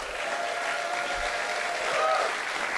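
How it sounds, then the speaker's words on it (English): Crowd applause at a demoparty prizegiving, a continuous even wash of many hands clapping at moderate distance, holding steady for the full few seconds with no voices on top. "So give them a big applause."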